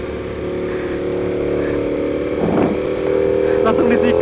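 A Ducati V4 R motorcycle engine runs steadily at idle on a Sunday group ride, a loud continuous drone that rises slightly in the last second or two.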